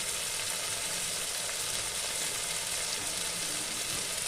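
Ground mustard paste hits hot oil while a light, sour tilapia fish curry is being cooked, giving a steady, close, crackling sizzle heard alone throughout.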